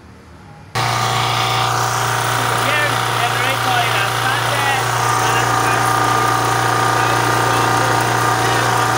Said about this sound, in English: I'll pause this video while I start this generator.